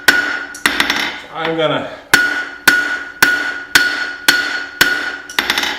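Hammer blows ring out on a small knife being forged from a bolt, close and loud metallic strikes at a steady rhythm of about two per second, with a brief spoken phrase near the start.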